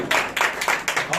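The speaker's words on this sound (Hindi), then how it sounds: "उसके लिए जोरदार तालियां।" Loud applause during a church service: four or five strong, evenly spaced bursts of group clapping in quick rhythm, close and with no talking over them.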